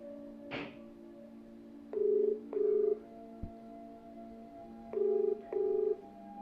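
A telephone call is dialed and then rings back, with short dialing tones followed by two pairs of steady ringback buzzes separated by silence. The sound is quiet but clear, with a faint background hum.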